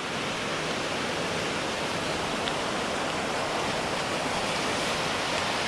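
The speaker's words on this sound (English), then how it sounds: "The ocean's a little loud." Ocean waves along the California coast form a loud, unbroken roar of surf, steady and broadband from start to finish with no voices.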